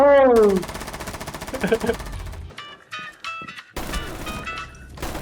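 Gunfire in the Rainbow Six Siege video game: rapid bursts of automatic weapon fire mixed with in-game effects and impacts, with players talking excitedly over it.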